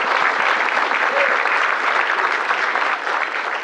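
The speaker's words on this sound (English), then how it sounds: "can I have an applause for the members who are here?" An event audience claps for the organization's members, a loud, dense burst of applause that holds steady for a few seconds and thins slightly at the end.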